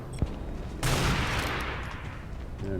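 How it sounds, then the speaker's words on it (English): Hitscan weapon fire during an Unreal Tournament duel: a sharp shot followed by a loud burst of blasts that trails off, ending with a brief low thump. "Little hit scan battle there."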